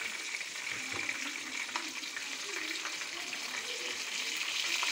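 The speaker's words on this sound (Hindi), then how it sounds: "बाकी के भी जो पीसेस बच गए थे उनको भी इसी तरह मैं कलर चेंज कर लेंगे डाल के ऑयल में" Chicken pieces for black pepper chicken karahi sizzle and fry in hot oil in a small pan, a steady close crackling hiss running throughout with no talking.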